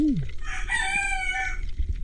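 A rooster crows once, a long loud cock-a-doodle-doo held for over a second, with farmyard noise underneath.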